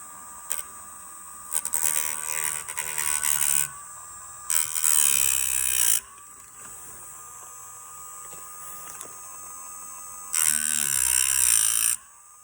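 A Dremel rotary tool fitted with a small 1.5-inch cutting wheel cuts into the wood of a 1968 GTO Sport steering wheel, its high whine rising in several loud bursts over a steady motor hum, close up and without talk.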